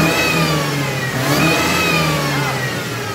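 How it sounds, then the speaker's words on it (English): A Mercedes-Benz W204 engine fitted with an intake stack revs steadily through its mid range, a continuous loud mechanical roar with rising and falling pitch sweeps and no talk over it. "I'm going to give it a couple of revs and then."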